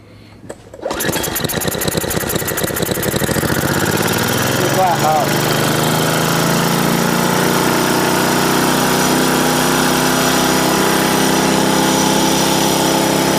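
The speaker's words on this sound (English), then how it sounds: "we're going to see if we can run the same engine on a water gas mixture" A small engine fed a water and gasoline mixture kicks into life after a short pull and then runs steadily at a loud, buzzing, rapid idle for the rest of the stretch, close by and unbroken.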